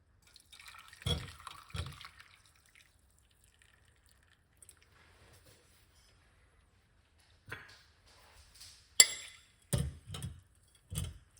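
Water with lime slices poured out of a container, heard as a few brief splashy dribbles and drips in short bursts separated by long quiet gaps.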